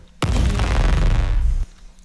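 Big explosion effect for a horror film, mixed with a teleportation energy sound: a single loud, low boom bursts in suddenly, rumbles densely for about a second and a half, then cuts off abruptly.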